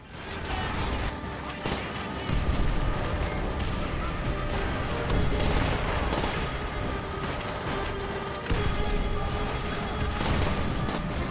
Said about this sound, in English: if we're back outside, that means get ready for the grenade spam